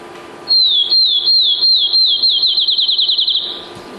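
A field sparrow sings alone and fairly close: a run of clear, high whistled notes that starts slow and spaced, then speeds into a quick bouncing trill over about three seconds.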